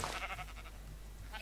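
Sheep in Minecraft letting out a short, faint bleat, a quick wavering call over quiet game background, with no talk over it.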